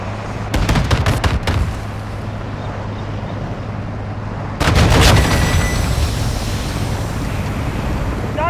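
An APC's gun in the Modern Warfare 2 video game fires bursts of heavy, rapid shots. A cluster comes early and a second loud volley follows midway, over a constant low engine hum and rushing wind-like noise.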